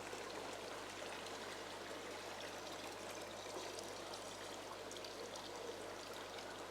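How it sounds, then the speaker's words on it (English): Water is siphoned out of a planted Juwel Trigon 190 aquarium to pull debris from the tank, giving a steady, faint trickling flow with no talking. "So then we can siphon as much of the debris out as possible, or if not, the pump will take it out."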